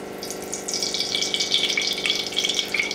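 A full cup of cooking oil poured into a kadhai while cooking restaurant-style chicken biryani, giving a steady splashing, gushing liquid sound throughout, close and alone.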